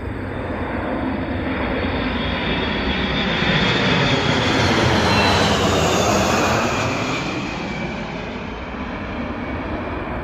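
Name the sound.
185th tanker wing refueling aircraft flying over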